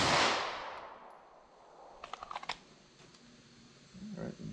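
A subcompact semi-automatic pistol fires into ballistics gel behind layers of denim and MDF. A single sharp shot opens loud and rings away, followed by a quick cluster of faint clicks and rattles.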